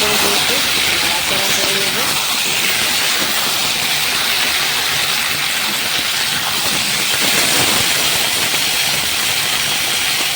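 Taro and potatoes frying with onion in a pan give off a loud, steady, unbroken sizzle and hiss that fills the whole stretch.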